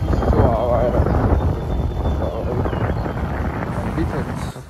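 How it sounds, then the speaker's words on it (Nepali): Cold wind blowing down from the Himalayas buffets the microphone in a loud, steady roar that swells and eases for several seconds, with a voice faintly underneath. "हिमालको चिसो हावा आएर"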